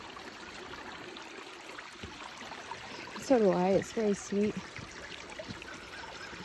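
A babbling brook beside a nature trail in Big Canoe's meditation park gives a steady, soft trickle and gurgle of running water, with a brief bit of talking in the middle.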